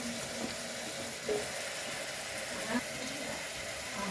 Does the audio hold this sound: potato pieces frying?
yes